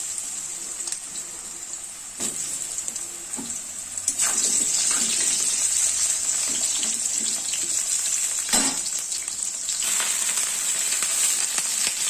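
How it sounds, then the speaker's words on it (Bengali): Pumpkin pieces frying in oil with a tempering of black cumin and dried red chilli, a steady bright sizzle running throughout with a few brief clinks and stirring scrapes, no talking. "কালো জিরে, শুকনো লঙ্কা ফোড়ন দিয়ে কুমড়ো ভাজা করবো।"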